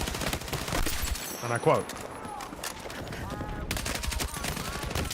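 Battlefield 6 gunfire: rapid bursts of shots with sharp metallic clatter in a busy battle mix, moderately loud and continuous, while someone talks over it.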